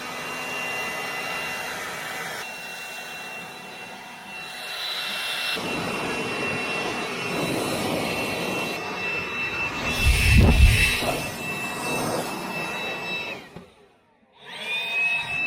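A leaf blower or air blower clears built-up debris off brush hog mowing equipment, its steady whooshing roar running loud and continuous with a stronger blast partway through, then a brief cutoff before it resumes.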